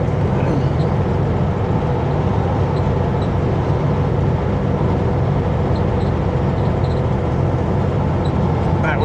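A heavy truck descends a steep mountain grade in the Canadian Cascades with a low engine drone and broadband road rumble that stay loud and constant inside the cab.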